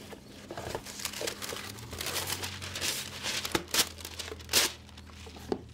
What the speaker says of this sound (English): And we line our cookie sheet with the parchment paper.